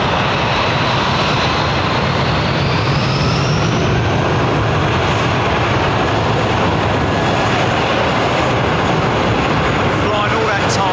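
Boeing 777 going around at Heathrow Airport, a loud, continuous broadband jet engine roar that holds steady throughout, thick with rumble and high whine.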